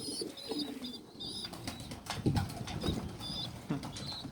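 Homing pigeons feed in a loft, with low repeated cooing, soft pecking and shuffling, and brief wing flaps close by, while high bird chirps come in and out in the background.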